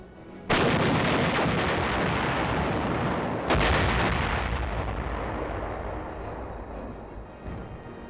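Two heavy artillery blasts, the first near the start and a second a few seconds later, each a loud booming report that rolls and decays slowly into a long rumbling tail.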